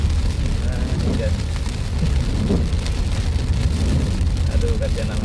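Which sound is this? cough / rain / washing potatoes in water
rain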